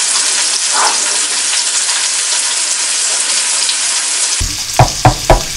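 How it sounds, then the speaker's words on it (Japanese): Pancetta fries in garlic-infused oil with a loud, close, steady sizzle and hiss, then a few sharp clacks or stirring knocks near the end. "パンチェット炒めますさっきのニンニクのオイルでね"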